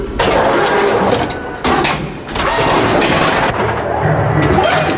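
Heavy artillery shells are loaded automatically into a field gun by a two-man crew system, giving loud, continuous mechanical clanking and rumbling in several surging bursts with short gaps between them.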